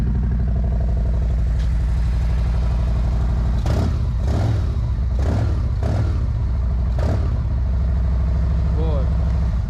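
2022 Harley-Davidson Road Glide RCX with a 4.5-inch exhaust idling, a steady low rumbling engine with a few throttle blips, heard close under people talking.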